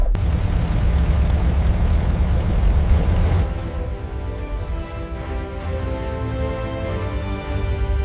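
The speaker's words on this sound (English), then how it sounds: "The first cylinder ignites, and the symphony begins." One of the 18-cylinder radial engines on a Martin Mars flying boat roars during a cold start, a loud, heavy, rumbling drone that drops to a steadier, lower throbbing idle partway through, heard close and alone.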